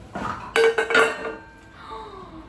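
A metal tea-making pot clanks and rattles in a short burst of handling knocks, fairly close, followed by a quieter scrape and settling.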